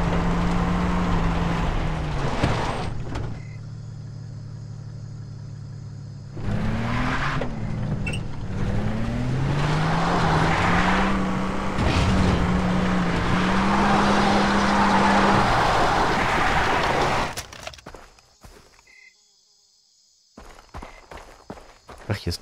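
Car engine in the video game Far Cry 3, a steady motor drone rising and falling in pitch as the vehicle drives, fairly loud, then cutting out near the end and leaving quieter clicks and game sounds.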